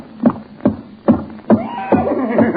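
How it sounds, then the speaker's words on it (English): Horse hooves clip-clop on a hard floor in a radio drama, five or six evenly spaced, close and prominent knocks with a brief rising rattle in between. "Good heavens, there is a horse in the kitchen."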